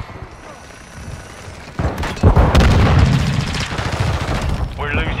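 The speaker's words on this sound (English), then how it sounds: "Stun grenade out!" A stun grenade detonates in Call of Duty Modern Warfare II multiplayer on the Dome map, a sudden loud broadband blast that rings on amid continuing in-game gunfire and battle noise.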